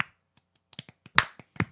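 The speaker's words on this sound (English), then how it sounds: "Are we doing a slow clap?" Scattered hand claps in a podcast studio, about seven sharp claps at uneven spacing that pick up slightly toward the end, close and moderately loud with no talk over them.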